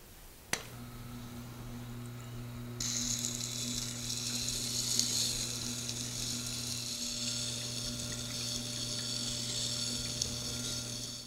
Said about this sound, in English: it's time to grind